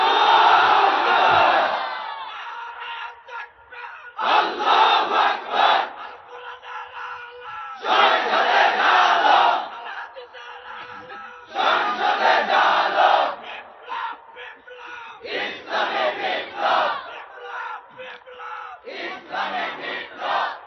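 A large crowd at an outdoor religious gathering chants the slogan Naraye Takbir in loud, roaring bursts, about six call-and-response shouts repeating every few seconds with brief pauses between them.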